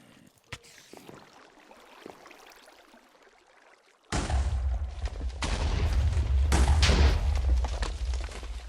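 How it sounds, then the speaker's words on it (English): An explosion in the Minecraft GregTech New Horizons modpack hits suddenly after a quiet stretch, then swells into a loud, sustained roaring rumble that lasts several seconds. "Why is that all just blown up?"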